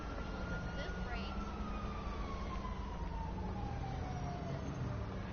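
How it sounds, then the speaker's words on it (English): Emergency vehicle siren in the video game GTA 5, a wailing tone sliding slowly downward over steady engine and road rumble, heard continuously throughout. "And a siren doesn't mean coming through"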